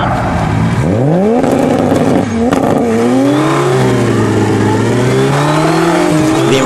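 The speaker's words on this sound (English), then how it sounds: "this black Supra has enough power to break the wheels loose at about 40 miles an hour, both wheels" Black Toyota Supra doing a burnout at about 40 mph, both rear wheels breaking loose; the engine revs hard and climbs through gears, loud and close with tire squeal underneath.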